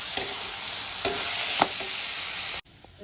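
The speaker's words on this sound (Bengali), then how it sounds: "বেগুনটা দিয়ে দেবো। ভালো করে মিক্স করে নেব।" Roasted mashed eggplant being stirred into a fish head mixture in a pan, a steady soft sizzle broken by three quick scraping stirs before the sound cuts off.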